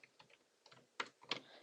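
Typing on a computer keyboard while entering settings in Minecraft, a few light scattered keystrokes followed by two louder key presses, close and quiet with no talking.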